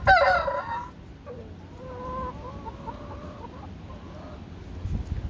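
Backyard chickens, with a loud clucking burst at the start followed by a rooster's long drawn-out crow, then quieter scattered clucks and some wind rumble.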